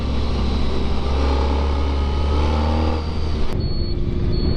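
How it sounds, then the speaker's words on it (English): A Honda ST1300 motorcycle engine while riding twisty West Virginia roads, a loud, steady low drone under wind noise that dips briefly and then carries on, with no talk. "the beauty of this bike is that you really don't have to do a lot of shifting"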